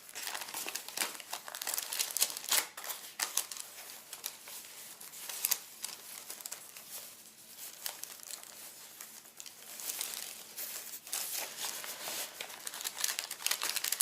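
Sheets of coffee-dyed paper are handled and crinkled close up, a dense continuous rustle with sharper crackles and swells throughout, no voices.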